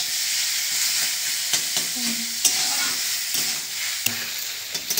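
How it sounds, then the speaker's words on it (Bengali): Grated carrots frying in ghee with bay leaf and spices for carrot halwa, a steady sizzle broken by repeated scraping and clinking strokes of a spoon stirring in the pan, close up. "গাজরটাকে এবার ভালো করে হালকা ভেজে নিতে হবে ঘিয়ের সঙ্গে"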